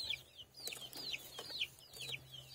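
Soft, repeated chicken clucks and short calls come every half second or so over a low steady hum, fairly quiet and close by.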